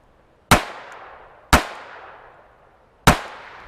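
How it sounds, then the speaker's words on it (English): Three loud, close pistol shots from a Taurus PT-22 pocket pistol at 3 yards, evenly spaced about a second and a half apart, each a sharp crack followed by a fading ring. "Let's go ahead and put some on paper with the PT-22 and see how accurate it is at self-defense distance."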